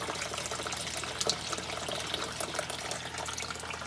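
An external siphon pulls water out of a grow bed, making a constant nearby rushing, trickling flow with occasional gurgles as the level drops. No voices are heard.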